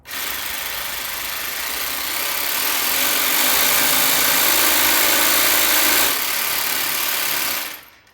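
A Festool 18-volt cordless saw runs continuously at maximum speed, a loud, steady broadband whine and whir that swells slightly in the middle and then cuts off near the end.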